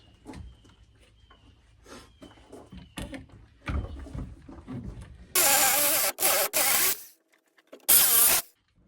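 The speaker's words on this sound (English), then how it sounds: "with an angle grinder" An angle grinder trims a 2x4 next to metal framing in a popup camper toy hauler conversion. Quieter handling knocks come first, then a few short, loud, harsh bursts.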